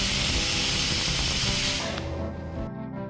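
A pressure cooker holding half a cup of water lets out a loud, steady hiss of escaping steam for about two seconds, then fades into a lower, quieter rumble.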